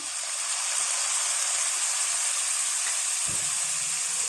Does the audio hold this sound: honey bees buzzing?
no